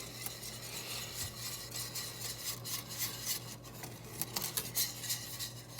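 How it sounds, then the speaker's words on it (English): A utensil stirs a Dijon mustard mixture in a bowl, giving soft, steady scraping and light clinking close by in a quiet kitchen. "Stir that up."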